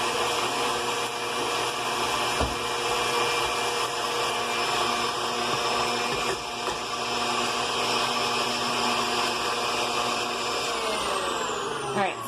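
An electric mixer beats vegan marshmallow fluff made with sugar, giving a steady, close motor whine and whir that holds unchanged for over ten seconds.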